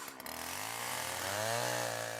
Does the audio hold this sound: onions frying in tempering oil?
no